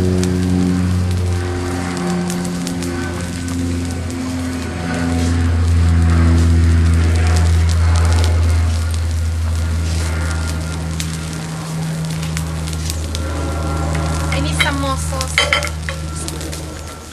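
Butter melting over fish on a barbecue fire, dripping into the flames with a loud, steady sizzle and crackle that keeps going throughout, close up, with no talking.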